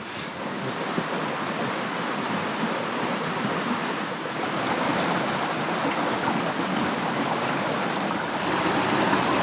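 Creek water flowing steadily in Girrakool National Park, a continuous broadband rush that stays even and fairly close throughout, with no voices.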